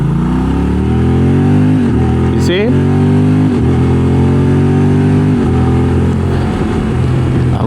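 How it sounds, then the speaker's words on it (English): A Moto Guzzi Stelvio motorcycle pulls hard at high RPM, its engine note climbing steadily, then dipping briefly at three quick-shifter gear changes before rising again. The ride is loud and close, and a rider's voice speaks briefly over the engine. "I'm gonna try to do that quick shifter thingy with higher RPMs"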